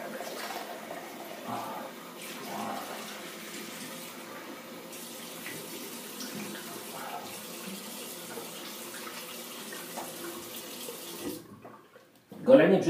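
Cold tap water runs steadily into a sink as a man rinses his face after a straight-razor shave, a continuous moderate splash that cuts off near the end, followed by a brief louder handling noise.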